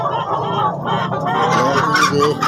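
Several large chickens cluck and squawk close by, a busy overlapping chatter of fowl with a rooster-like call rising near the end.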